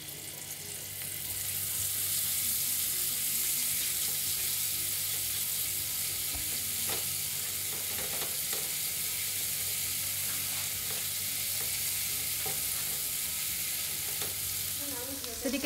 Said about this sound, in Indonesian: Tumis dengan sedikit minyak goreng.